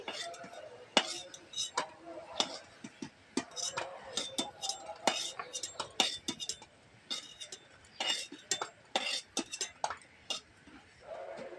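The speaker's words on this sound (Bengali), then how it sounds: "এবার আমি একটা একটা করে প্লেটে তুলে নিচ্ছি" Light clinks and taps of fried beetroot fritters being set down one by one on a plate, irregular and close, with a quiet voice talking now and then.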